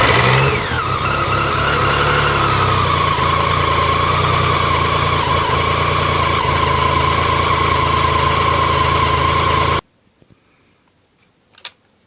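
A BMW K75 motorcycle engine cranks, catches and settles into a steady, loud, close idle that runs for about ten seconds before cutting off abruptly, followed by a few faint clicks.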